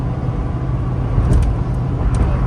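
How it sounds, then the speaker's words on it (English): Truck with a six-four engine driving down the road, a low steady engine rumble and road noise, close and continuous for a couple of seconds. "Really freaking nice to be able to take a truck, drive it down the road"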